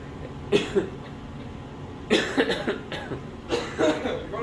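Several bursts of harsh coughing from men, loud and close, in three separate clusters with short pauses between.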